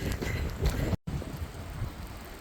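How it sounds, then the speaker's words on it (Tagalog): A sudden heavy downpour of rain pours steadily at close range, with a dense, broadband wash and gusty rumble across the whole clip, briefly cut by a short dropout near the middle. "Biglang bumuhos yung ulan."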